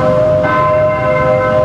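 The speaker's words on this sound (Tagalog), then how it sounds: "narinig ang kalembang ng kampana sa Manila Cathedral" Noon bells ring out from the Manila Cathedral, loud and sustained, holding a steady metallic tone through the whole moment.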